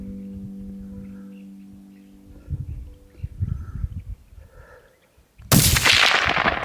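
A single loud rifle shot cracks out during a deer hunt, sharp and close, following quiet rustling and low murmuring in the woods.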